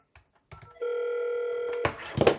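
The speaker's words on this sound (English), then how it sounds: "That phone's ringing. Obviously the kitchen's ringing." An Avaya IP Office desk phone rings once with a sustained steady electronic tone, followed by a louder burst of clattering handling noise and rustle.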